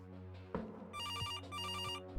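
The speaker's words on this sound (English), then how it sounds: "She stopped speaking before the phone rang." A bright electronic telephone ring from the point-and-click game Kathy Rain sounds in two repeated bursts over a low, steady musical hum, with a short thump just before it starts.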